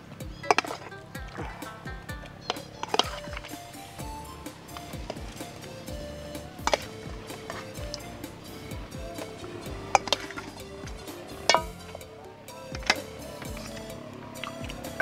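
Marinated pork hock goes into a cooking pot for bún riêu crab noodle soup. Sharp clinks and knocks of meat and utensils against the pot are scattered over a quiet kitchen background.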